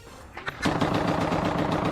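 Rifle fire in combat between soldiers: after a couple of isolated shots, a rapid, sustained burst of automatic gunfire rattles loudly and continuously until it cuts off abruptly.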